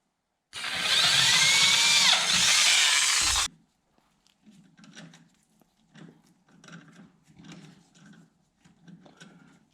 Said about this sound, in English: now I'll drill and tap 2 holes in there.